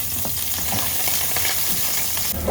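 Onion sautéing with garlic in a pan for pancit: a loud, constant sizzle and crackle close by, with stirring scrapes mixed in throughout.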